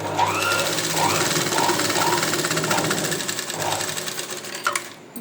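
A sewing machine with a normal presser foot stitches piping in a fast, steady mechanical chatter for several seconds, then slows and stops near the end.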